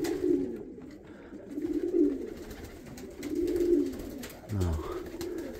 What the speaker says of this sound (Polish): To tylko gołębie są.